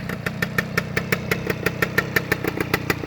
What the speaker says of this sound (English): Nice crisp exhaust note.